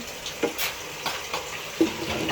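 Ginger garlic paste fries in a pan for a turnip dish, a soft continuous sizzle with a few spatula stirs and light clinks of utensil against pan.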